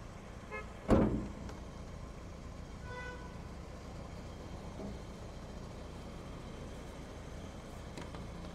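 A 2011 Hyundai Accent car's engine hums steadily at idle, low and continuous, with a sharp knock or thump near the start and faint tonal whines over the running engine; no one speaks.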